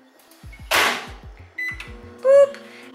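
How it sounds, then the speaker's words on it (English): A microwave oven warming a wrap: soft button presses and a thunk, then a steady hum broken by a few clear electronic beeps toward the end, loud and close. "So I'm just gonna warm this up in the microwave for about"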